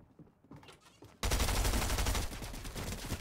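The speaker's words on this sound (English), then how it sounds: "Where's that shooting coming from?" Rapid automatic gunfire in the Fortnite video game bursts in loudly after a second of quiet chatter, a dense rattling stream of shots continuing to the end, with voices talking over the start.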